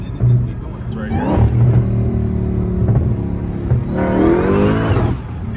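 A modified Chrysler car engine with ported parts revs steadily and loudly nearby, climbing and falling in pitch, while people talk over it.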